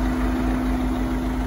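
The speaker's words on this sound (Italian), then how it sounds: "Motore molto silenzioso" A Ford C-Max engine idles quietly and evenly, giving a steady, soft low hum that holds without change and has no voices over it.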